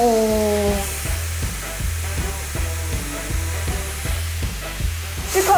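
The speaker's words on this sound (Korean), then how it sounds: "약간 드라이기 롤빗을 여기다 만들어놨어." A hair dryer with a round roll-brush attachment blows a steady airy rush, with a rhythmic pulsing of low thumps underneath and a brief tonal whine at the start.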